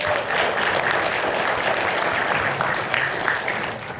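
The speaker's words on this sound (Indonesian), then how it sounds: "Aplaus untuk anak muda topi merah." An audience claps in dense, sustained applause for several seconds, loud and steady without a break.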